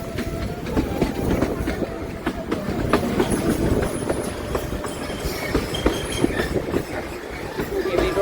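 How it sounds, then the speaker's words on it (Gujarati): An old passenger train on the Unai to Waghai line pulls into Kevdi Road station, rumbling with a rhythmic clickety-clack of wheels on rails and occasional metallic squeals, loud and close, with faint voices of passengers nearby. "સ્ટેશન પાસે પહોંચી ગયા છે. ટ્રેન ઊભી રહી છે હવે."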